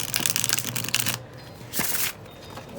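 Tarot cards riffle and shuffle close by in two quick bursts with a short pause between, crisp and papery, no voices.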